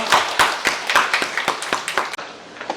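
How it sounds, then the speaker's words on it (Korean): A church congregation at Sunday worship claps in rhythm, sharp distinct claps in a steady beat close by, each clap standing out clearly before the sound cuts off near the end. "우리 하나님께 감사의 박수 한번 하겠습니다."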